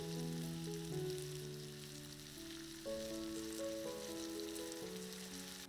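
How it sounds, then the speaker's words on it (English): Pork chops fry in hot olive oil in a skillet under a splatter screen, giving a steady crackling sizzle throughout, close and moderately loud, with tonal background music playing underneath. "A screen is fantastic because it lets the steam escape so the meat actually fries and gets perfectly crispy"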